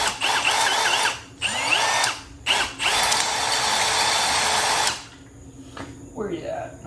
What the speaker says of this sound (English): Got ourselves a pilot hole. Let's drill a big one.